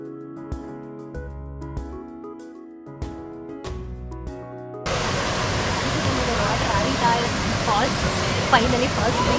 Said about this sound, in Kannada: finally falls